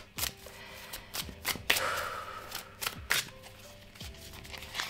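Tarot cards being shuffled by hand in a quiet room, a series of crisp riffling and slapping bursts at an irregular rhythm, close and moderately loud with no voices.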